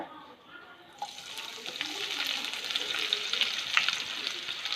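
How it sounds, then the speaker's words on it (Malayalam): Onions frying in oil with a spoonful of ghee for biryani, starting with a sudden loud sizzle that settles into a steady crackle with small pops, close up and with no talking. "സവാള നന്നായിട്ട് പൊരിച്ചെടുക്കണം"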